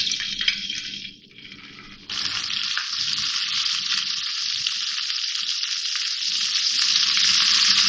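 Garlic ginger paste hitting hot oil in a pan for keema samosa filling, a steady loud sizzle that briefly dips and then surges into continuous hissing frying.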